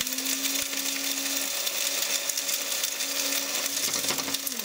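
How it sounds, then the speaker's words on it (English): Steady, loud whirring of a blender grinding dry garam masala spices, a high motor whine holding constant before shifting pitch near the end; no speech. "You can hear the spices being ground down, the husks being obliterated by my blender."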